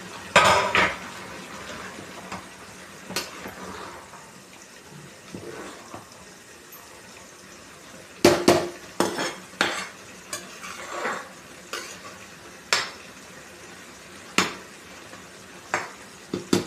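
A spoon stirring bagara biryani rice in a pot, with soft scrapes and sharp metallic clinks against the pot's side that come irregularly, some of them in quick clusters, over a quiet background.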